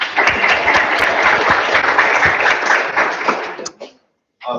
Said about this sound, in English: Another round of applause for Dean Aguilar.